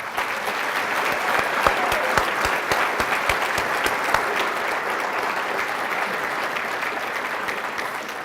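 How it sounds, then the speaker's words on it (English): An audience at the 2018 City of Fremont State of the City Address gives a round of applause for city employees, with loud, sustained clapping that holds steady throughout and some sharper individual claps standing out. "I'd also like to ask the audience for a round of applause"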